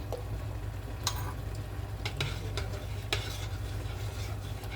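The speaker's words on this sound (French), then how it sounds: "toujours bien mélanger Parce que si vous ne mélangez pas, ça va coller au fond de votre casserole" A utensil scrapes and stirs thick flour batter in a saucepan, with occasional sharp clicks against the metal over a low steady hum.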